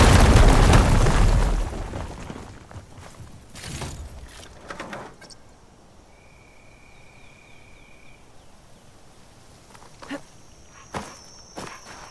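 A firegleam deposit ignited in Horizon Forbidden West explodes with a loud, deep blast at the start, then fades into a rumbling tail, followed by scattered footsteps and small thuds.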